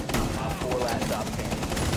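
Rapid gunfire bursts in the tactical shooter Rainbow Six Siege during a ranked match, loud and dense shots packed closely together over a couple of seconds, with a player's voice talking over the shooting.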